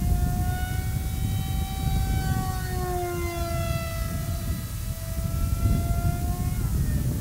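A small radio-controlled model airplane flies overhead with a steady whining motor tone that slowly rises and falls in pitch, continuous over wind-like outdoor noise.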